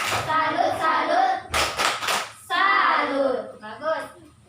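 A class claps the rhythmic "tepuk salut" clap in an Indonesian classroom, with bursts of chanting between and over the hand claps.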